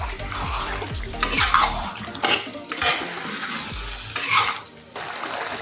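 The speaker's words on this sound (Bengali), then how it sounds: "এখন গ্যাসের ফ্লেম একদম বাড়িয়ে রেখে চিকেনটা 5 থেকে 7 মিনিট নেড়েচেড়ে রান্না করব" Chicken stirred and fried in a pan over a high gas flame for a Bengali green-chilli chicken, with repeated scraping and clinking of a utensil against the pan over a steady close sizzle, no talking.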